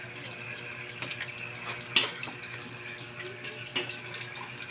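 Water runs from a kitchen tap as a pork leg is washed under it, a steady, fairly weak stream with a couple of brief splashes and clinks against the sink.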